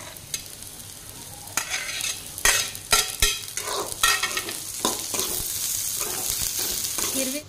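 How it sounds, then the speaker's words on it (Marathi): Green chillies sautéing in oil with onion and garlic in a pan, a close, steady sizzle broken by repeated scraping stirs of a utensil against the pan, with no talking. "2-3 मिनिटे हिरवी मिरची छान तेलामध्ये परतली।"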